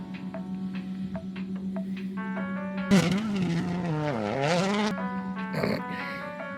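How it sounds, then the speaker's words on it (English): A car engine in limp mode, floored with the brake on, holds a steady droning idle-like tone, then surges and sags in pitch for a couple of seconds before settling back. "I'm flooring it right now. with the brake on, or with the e-brake on."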